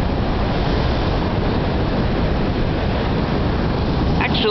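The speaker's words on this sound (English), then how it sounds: "these are big waves, but they're not that big" Big ocean waves churn in the morning after Hurricane Noel, a loud continuous roar of surf mixed with heavy wind buffeting, with no clear breaks between waves.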